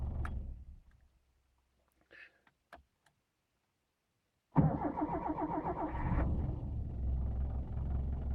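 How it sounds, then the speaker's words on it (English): Subaru fitted with a thief-proof ignition, unused for a month, sits silent until its starter cranks briefly and the engine catches into a loud, steady idle rumble close by, alone without talk. "the starter motor works as soon as it makes contact"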